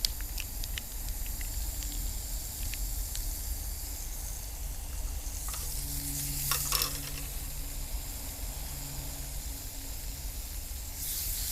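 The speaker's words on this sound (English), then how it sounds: "And the sizzling you hear is with the water." Water and extra virgin olive oil sizzling in a frying pan while cooking a trail rice and lentil pilaf, a steady close crackling hiss with occasional stirring scrapes and spits.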